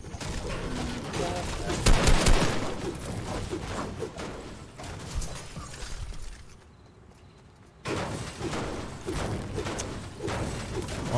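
Bursts of video game gunfire crackle and thump in rapid volleys, pausing briefly before resuming, with muffled game noise underneath.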